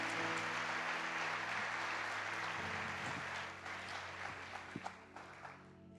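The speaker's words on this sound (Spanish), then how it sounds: "Denle un aplauso al Señor, porque así es nuestro Dios." A church congregation applauds during a sermon, a moderate wash of clapping with sustained organ or keyboard tones underneath, thinning out in the second half with a few sharper claps standing out.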